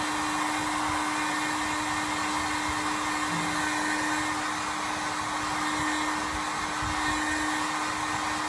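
A heat gun blows hot air at a corner of 0.5mm PVC protection tape with 3M adhesive, giving a steady, close, continuous whirring roar that holds at one level throughout with no speech.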